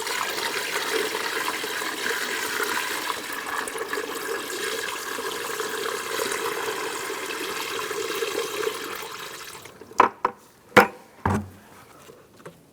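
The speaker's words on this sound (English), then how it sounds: "Refill your washer fluid." Washer fluid is poured into a 2005-2010 Chrysler 300 windshield washer reservoir, a steady liquid gurgle and trickle for several seconds that stops, followed by a few sharp plastic clicks and knocks.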